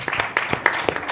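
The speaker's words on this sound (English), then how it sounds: "A round of applause for that, please." Brief, close audience applause at a talk on sport and teaching, with a few distinct sharp claps standing out over a bed of scattered clapping.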